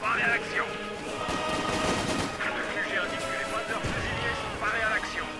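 Gunfire crackles almost nonstop through a Company of Heroes 2 battle, with an incendiary grenade among dense bursts of shots and crashes; someone talks over the din throughout.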